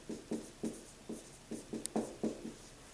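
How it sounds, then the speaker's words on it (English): Marker or chalk writing on a board during a lesson on the moss life cycle: a quick series of about nine short scratchy strokes in an uneven rhythm, close and fairly soft. "So we'll go ahead and we'll write Gametophyte Generation."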